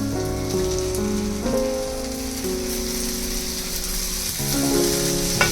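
Chopped onion sizzling and frying steadily in a hot pan while cooking prawn masala, a continuous close crackle with occasional stirring scrapes and swells.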